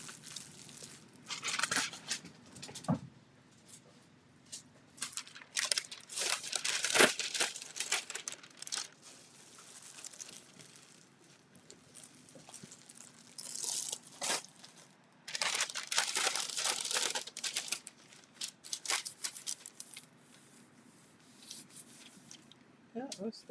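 Sheets of vellum paper crinkle and rustle in bursts as they are handled near a gel printing plate, with crisp crackling flurries separated by quieter pauses and a faint low hum underneath.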